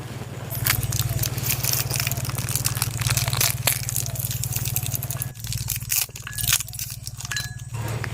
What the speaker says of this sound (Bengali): আমি এখন চকলেটগুলো ছাড়িয়ে নিচ্ছি।